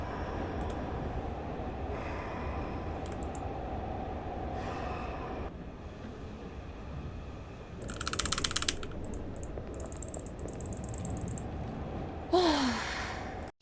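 Eerie, sigh-like breathing fills a station platform in the horror game Platform 8, a steady close hiss running throughout, with brief mechanical clatter near the middle and a sharper rasping breath toward the end.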